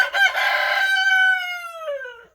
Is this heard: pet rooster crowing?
yes